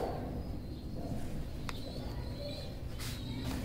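Golden teddy pigeons coo softly over steady background noise, with low, rolling coos repeating through the moment and no talking.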